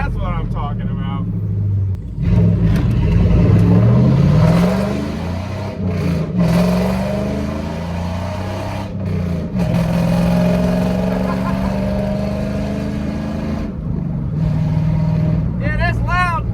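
Straight-piped, cat-deleted 5.3 V8 in a five-speed manual Chevrolet Silverado revving and pulling through gears, a loud rumbling exhaust that rises and falls with shifts, with voices talking over it at times.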